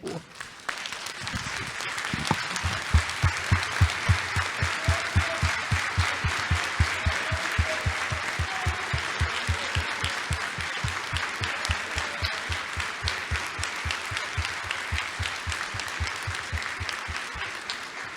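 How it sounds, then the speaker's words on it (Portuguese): An audience gives sustained applause in tribute at a Brazilian innovation projects event, dense clapping that starts quickly and holds steady and loud for the full stretch, with a few voices faintly under it. "dessem uma salva de palmas para todos que já se foram"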